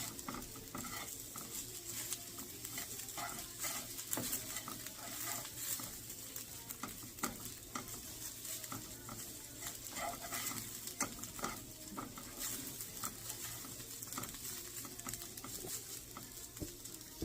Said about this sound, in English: let's mix our mixture over here